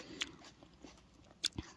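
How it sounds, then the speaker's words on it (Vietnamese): Someone bites into a fresh, ripe home-grown tomato, making a few sharp, close crunching pops separated by short quiet gaps. "Bỏ vô miệng cái nó làm cái bụp"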